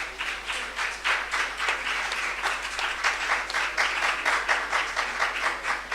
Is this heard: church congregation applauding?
yes